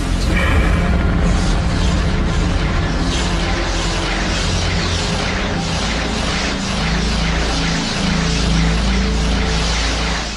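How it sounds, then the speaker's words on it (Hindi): A loud, sustained rumbling boom depicting the universe suddenly exploding, with crashing, roaring texture that stays dense and powerful throughout, like a huge cinematic explosion. "हमारे ब्रह्मांड में अचानक विस्फोट हो गया"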